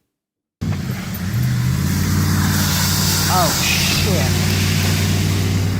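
Car engines and road noise from vehicles fleeing the 2011 tsunami in Japan: a loud, steady engine drone and rumble that begins abruptly, with a brief exclamation partway through.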